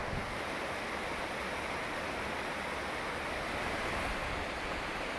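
Steady broadband roar of Tumalo Falls in Oregon rushing somewhere ahead up a creek along a hiking trail, a continuous even wash of falling water with no pauses, fairly loud and unbroken.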